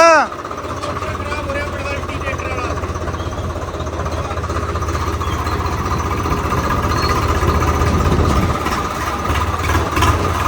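Tractor engines, a Swaraj 855 and an Arjan 605, rumble steadily through a drive on a long road trip in bad weather, a continuous low idle-like drone with voices talking over it.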